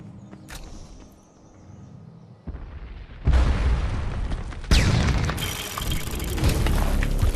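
Explosions of a destroyed target in the video game Defiance, deep booming blasts that build into a sustained loud roar with a second burst near the end, close and alone without talk.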